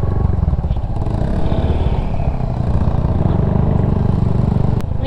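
An idling Yamaha SR single-cylinder motorcycle thumps steadily up close at a seaside roadside, its loud, even exhaust pulse and mechanical clatter filling the scene without a break.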